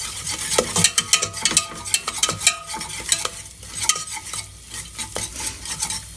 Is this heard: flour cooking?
yes